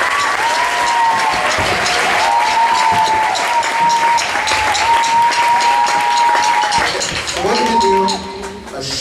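Applause and cheering from an audience in a high school gym at a drum ensemble show, loud sustained clapping with scattered whoops and shouts, while a high whistling tone sounds repeatedly above the crowd.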